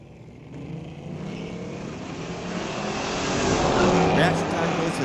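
A 1973 Pontiac and a 2007 Corvette launch in a street-legal drag race at a raceway, engines roaring steadily and building to a loud, rising crescendo as the cars accelerate down the strip.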